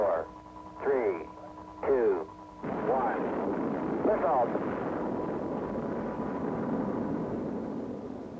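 A rocket carrying a small satellite rises off the pad after a countdown, its launch roar starting suddenly and holding as a loud, steady rumble. Brief radio-style voice calls come just before the ignition.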